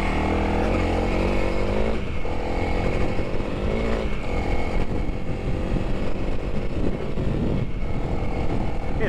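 A 2021 Honda CRF300L motorcycle climbs a dirt hill in sixth gear at half throttle, its engine droning steadily and loudly with small shifts in pitch, under rushing wind.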